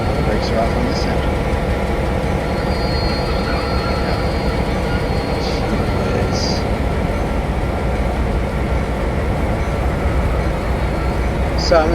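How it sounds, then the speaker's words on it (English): Train locomotives in the Pennsylvania & Berwind railroad simulator start up and creep slowly, a steady low engine rumble running throughout with brake squeal showing up as faint high whines. "I start the engines out and they go really slow, the brakes are squealing the whole time."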